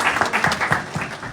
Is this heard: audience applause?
yes